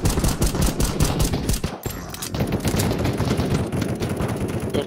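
Rapid gunfire from a sniper in the online game MineFun.io, dense bursts of shots crackling continuously and fairly loud, with a brief break in the middle before the firing resumes.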